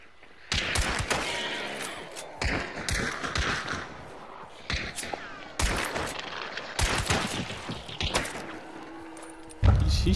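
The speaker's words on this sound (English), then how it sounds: "He's shooting at me, but he's missing like crazy, though." Gunfire from an enemy shooting in the video game Hunt: Showdown at Stillwater: sharp, fairly quiet cracks and short bursts come in irregular clusters with echoing tails, and a closer thump lands near the end.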